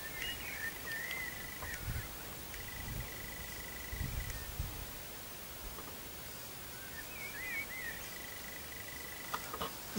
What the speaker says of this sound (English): it is very quiet and you get to hear the birds